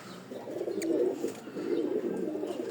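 Low, rolling coos from an Indian Lal Dom pigeon repeat steadily through the clip, soft and close, with faint rustling in the background.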